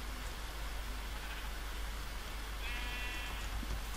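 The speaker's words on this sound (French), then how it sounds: "Un mouton, deux moutons." A sheep bleats in a video game, a short wavering call standing out over a steady hiss of background noise, fairly faint.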